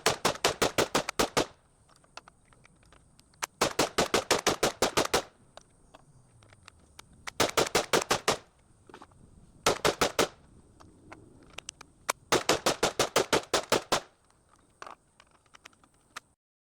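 A Chimera .223 rifle fires rapid strings of shots during a torture test, five bursts of sharp, loud cracks in quick succession separated by short pauses, with faint mechanical handling between strings.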